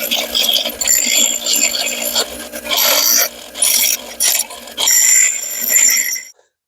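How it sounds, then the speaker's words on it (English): Bench grinder cleaning up the corners of a steel power steering bracket, loud bursts of harsh grinding and rasping in repeated passes with short pauses between, cutting off abruptly at the end. "I'm going to put this on the bench grinder and I'm going to clean up the corners of this a little bit."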